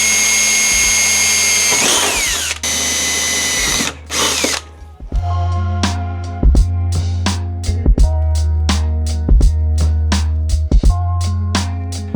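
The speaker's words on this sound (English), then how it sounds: "you drill underneath these factory holes that are here" A power drill bores under the factory holes in a car's body: a long high whine at first, then a run of short repeated bursts with the motor spinning up and stopping.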